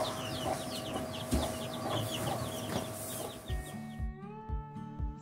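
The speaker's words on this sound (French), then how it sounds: "On sort nos animaux, nos poules en tout cas presque tous les jours présentement." Hens cluck and chatter softly over an outdoor background, with a few closer, louder clucks near the end.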